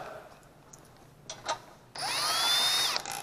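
A power tool spins briefly and then runs in one loud burst as it drives out a 10 mm bolt on a Honda GXV160 engine, preceded by a few faint clicks.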